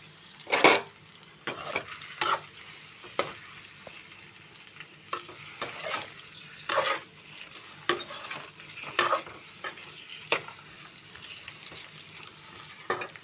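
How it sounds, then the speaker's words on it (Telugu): Bitter gourd pieces shallow-frying over a fairly high flame, sizzling steadily while a spoon turns them in the pan, giving repeated sharp scrapes and clinks at an irregular pace, close up. "ఇలా తిప్పుతూ మనం కొంచెం ఈ కాకరకాయ మెత్తపడేంత వరకు ఫ్రై అయితే చేసుకోవాలండి"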